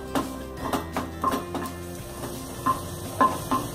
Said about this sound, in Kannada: ಬೆಳ್ಳುಳ್ಳಿ ಸ್ವಲ್ಪ ಕೆಂಪಗಾಗೋವರೆಗೆ, ಒಂಚೂರು ಬ್ರೌನ್ ಕಲರ್ ಬರೋವರೆಗೆ, ಕಂದು ಬಣ್ಣ ಬರೋವರೆಗೆ ನಾವು ಇದನ್ನ ಹುರ್ಕೊಳ್ಬೇಕು